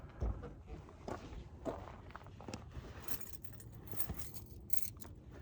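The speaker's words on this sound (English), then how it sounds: "Work keys." A ring of work keys jangles near the car during an oil change, quiet metallic clinks scattered through the clip alongside a few footstep-like thumps, with no speech.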